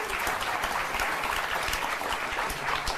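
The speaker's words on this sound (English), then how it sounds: "I'm beginning to believe knocking Hillary will get applause." Studio audience applause on a late-night television talk show, a fairly faint but continuous patter of clapping throughout, steady with no clear peaks and no talk over it.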